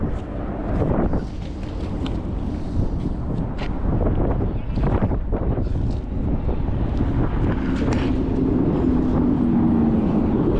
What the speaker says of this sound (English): it's kind of noisy in this area, and it's a lot windy